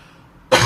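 A single sharp, loud cough bursts out after a moment of near silence, close to the microphone.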